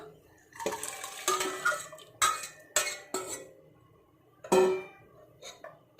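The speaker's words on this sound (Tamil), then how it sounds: "இப்போ அதே குக்கரில் நம்ம கலக்கி வச்சுருக்க பருப்பும் வெல்லத்தையும் சேர்த்து போட்டுக்கலாம்." Mixed lentils and jaggery tipped into a metal pressure cooker, heard as a string of close, sharp clanks and scrapes of spoon on metal with quiet gaps between them.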